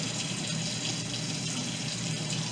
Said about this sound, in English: Just rinse it out with hot water.